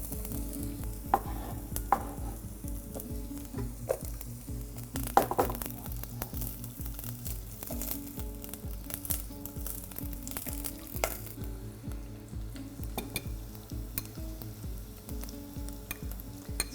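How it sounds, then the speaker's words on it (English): Chopped onions cook gently in a small amount of rapeseed oil in a pan, giving a soft, steady sizzle with occasional stirring clicks over a constant tonal background. "So we'll just cook the onion very gently"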